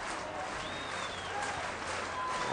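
Baseball crowd at an Arizona versus Long Beach State college game applauding and cheering on their feet, a dense steady roar of clapping with scattered whistles, fairly distant and unbroken throughout.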